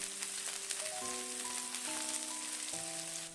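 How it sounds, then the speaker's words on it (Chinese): Chopped scallions fry in a hot wok of cooking oil and lard, making a soft, constant sizzle with light crackles beneath a gentle melodic tune. "油热之后，放入切好的葱花炒香。"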